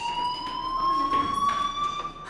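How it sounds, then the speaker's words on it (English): In the game Life is Strange, a fire alarm rings continuously as a steady, loud electronic tone with a slight rising pitch, heard alone without speech. "Hey, do you hear that fire alarm? That means you should be outside."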